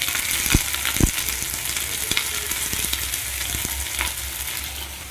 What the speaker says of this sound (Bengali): হলুদ আর লবণ দিয়ে আমার কুমড়োটা ভালোভাবে কষানো হয়ে গেছে।